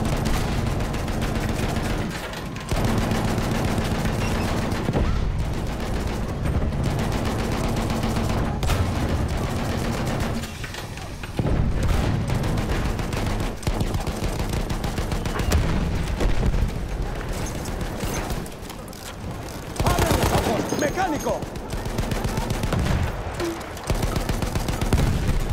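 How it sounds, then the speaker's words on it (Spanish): Enemy machine gun fire in Battlefield 1 rattles almost without pause, a loud, dense stream of shots and booms broken only by a few brief gaps. "¡Ametralladora enemiga!"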